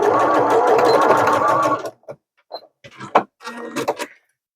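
A sewing machine runs a fast, continuous basting stitch along a zippered fabric pouch for about two seconds, then stops, followed by short bursts of handling clicks and rustles.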